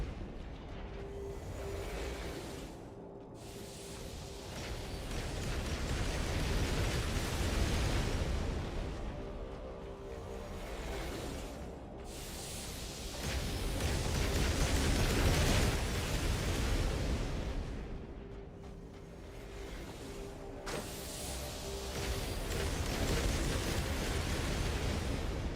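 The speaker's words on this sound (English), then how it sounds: "if I comboed that guy into the laser explosion" Rumbling, noisy bursts of a laser explosion roll on and off in a video game, with broad crackling swells alternating with brief quieter dips for a sustained stretch.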